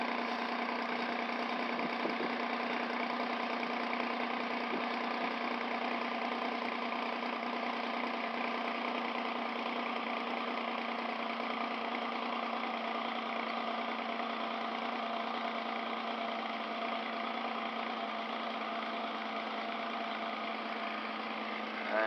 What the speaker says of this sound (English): I'm gonna let her run for 15 minutes and check back